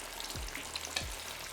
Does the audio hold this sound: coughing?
no